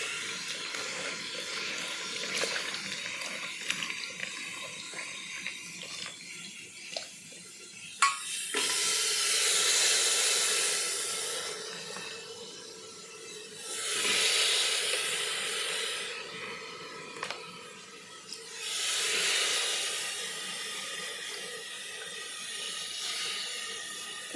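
Cut vegetables and bay leaves hitting hot oil already seasoned with cumin, bursting into loud hissing sizzles in several waves that swell and fade over a steady background hiss.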